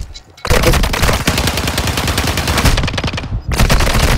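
Video game gunfire erupts in sustained automatic bursts, loud and dense, with a brief quiet opening before continuous rapid shots that pause once near the end and then resume.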